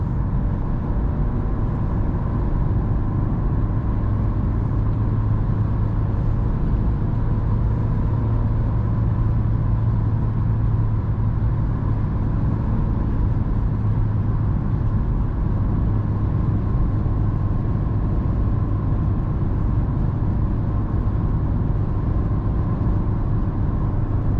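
Inside a naturally aspirated Renault Megane 3 hatchback with a 110 HP engine in 5th gear, climbing a hill near 3000 rpm: a steady, loud low engine drone with road rumble, unbroken for the whole stretch and without voices.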